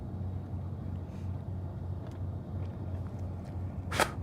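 A boat engine drones faintly and steadily through fog on a lake during bass fishing, distant and low, with a brief sharp splash-like burst near the end.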